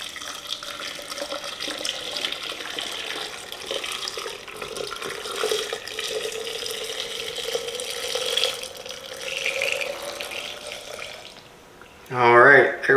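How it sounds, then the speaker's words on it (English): Hot pickling brine is poured over cucumbers in a jar, making a soft, steady trickle and splash of liquid. A voice comes in briefly at the end. "we're going to pour this mixture now over our cucumbers in our jar"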